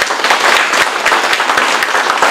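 A crowd applauding at a public address by the Hualien County magistrate, with dense, loud and continuous clapping filling the space and individual claps standing out.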